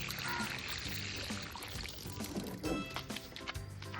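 Compost tea poured from a container onto a flowering plant in a garden, a close, continuous watery splash and trickle with soft gurgles, faint and alone.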